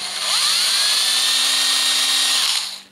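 Power drill with a small bit boring out a contact on a Panhard Dyna part, a loud close whine that spins up, holds steady for about two seconds, then winds down.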